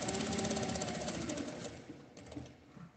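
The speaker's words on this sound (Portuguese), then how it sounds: "E vou passar uma costura unindo essa parte toda" A sewing machine running a seam along the edge of main fabric and lining for a small card and coin purse, a rapid close mechanical whir that slows and stutters near the end.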